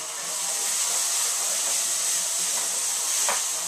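Diced peppers sweating in a hot pan: a steady, even sizzle with a soft bright hiss throughout, close and continuous, with one faint clink near the end and no talk.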